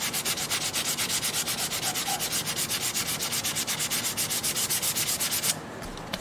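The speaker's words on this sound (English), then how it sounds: "how much sanding there is to building an instrument" Steady rhythmic hand sanding on a custom quilted wooden mandolin in a workshop, a rasping back-and-forth stroke repeated evenly and close up, with no voices, ending abruptly.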